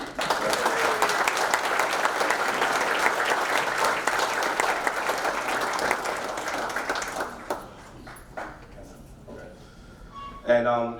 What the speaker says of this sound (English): we should give the Hall of Fame inductees one more round of applause